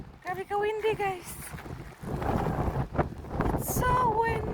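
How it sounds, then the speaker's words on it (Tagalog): Strong gusting wind at Granite Island in Victor Harbor buffets the microphone with a steady broadband roar, while a voice speaks and exclaims over it at start and end. "It's so windy."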